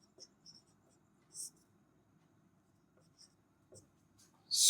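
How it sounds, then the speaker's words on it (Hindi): Pen or chalk writing out a maths solution in a class lesson, soft scratchy strokes in short scattered bursts over a quiet low hum, ending in a louder scrape. "तो यहां देख लीजिए, लिखेंगे हल सोनिया"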